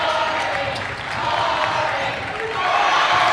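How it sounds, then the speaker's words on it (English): Basketball fans at a Minnewaska Area versus Barnesville high school game cheering on their team's defense, a steady loud crowd roar filling the gym throughout, with a commentator's voice and faint court sounds mixed in. "The Barnesville fans trying to cheer on their defense."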